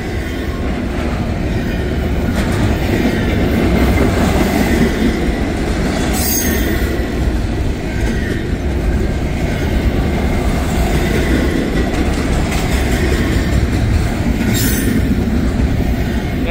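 A freight train carrying JB Hunt containers rolls past close by, a loud continuous rumble of wheels on rails with rattling cars and occasional sharp metallic squeals.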